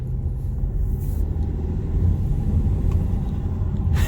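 A VW Arteon fitted with an APR carbon fiber intake and turbo inlet pipe drones steadily from inside the cabin while driving, a loud low engine rumble with road noise and no talking.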